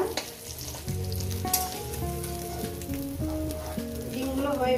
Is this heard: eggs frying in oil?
yes